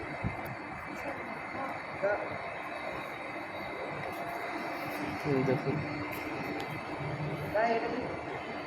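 A metro train arrives at Krishnaraj Puram station with a faint, steady mechanical rumble and hum on the platform, while someone speaks briefly nearby.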